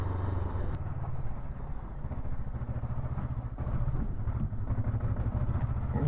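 A Kove 500 adventure motorcycle rolling along in second gear, its engine giving a low, steady, pulsing thump close by, with a light mechanical clatter and a brief dip in the middle.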